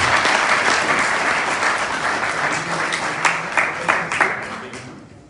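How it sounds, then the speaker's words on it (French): An audience welcomes a guest arriving with a delegation in Milan with loud, sustained applause, dense clapping from many hands that slowly thins and fades toward the end. "veuillez acclamer notre illustre invité"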